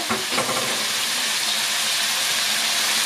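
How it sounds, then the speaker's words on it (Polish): Pork shoulder fries in a pan over a double gas burner, giving a steady, close, loud sizzle and hiss with a few brief clicks near the start and no talk. "smażymy przez pierwsze minuty, nie dotykajmy w ogóle mięsa"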